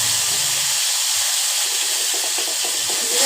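Cumin seeds fry in hot oil with a steady, loud, hissing sizzle and faint scattered crackles. No one speaks.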